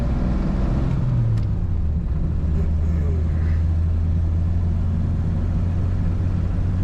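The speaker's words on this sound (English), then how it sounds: "Little choke and she starts right up. Very smooth running car." Engine of a 1934 Chevrolet Master five-window coupe idling smoothly, a steady low rumble close by throughout, with faint talk over it.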